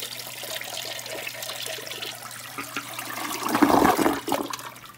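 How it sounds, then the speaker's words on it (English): A toilet flushing nearby, a rushing gurgle of water that swells and then drains away over a faint trickle and steady background hum. "I can make the toilets flush."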